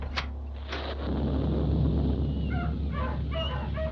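A radio drama sound effect of several dogs barking, in The Cinnamon Bear serial, brings a few thumps and then faint, distant yips and whimpers over steady background hiss.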